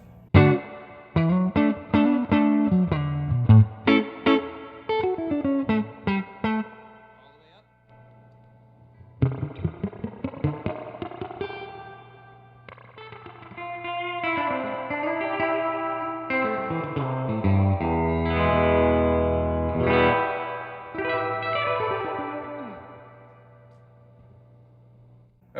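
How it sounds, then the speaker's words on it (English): Spring reverb on a guitar amplifier, heard on an Alabs Cetus reverb pedal: plucked guitar notes and strummed chords trailing long, splashy metallic echoes, with a low hum underneath and short pauses between phrases. "And this is what a spring reverb sounds like."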